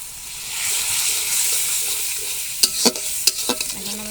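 Spice paste of turmeric, salt and chili powder being sautéed in a pan, a soft steady sizzle followed by a run of scraping, clattering stirs from a spatula near the end.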